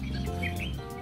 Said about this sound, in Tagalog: May mga dumadaan ng ibon.